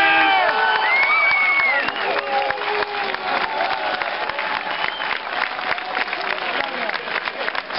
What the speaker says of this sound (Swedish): Stora applåd för alla deltagare i Nordic Trophy 2012